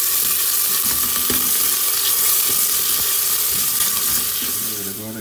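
Onion sizzling in olive oil in a pan, with a steady, loud frying hiss running throughout and a few clinks and stirring sounds, fading slightly at the end.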